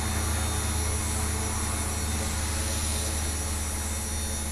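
Steady, loud drone of a small HK-450GT radio-controlled helicopter's motor and rotor in flight, a constant whine with a low buzzing hum running throughout without a break.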